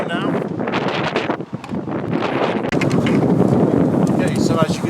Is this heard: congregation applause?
no